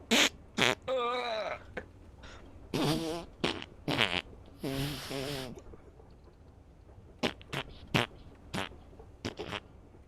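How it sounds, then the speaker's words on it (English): A string of farts is blasted right into a microphone, some short and sharp, others longer and buzzy with a rippling tone, coming in uneven bursts with brief gaps over about ten seconds. "Farts in the mic."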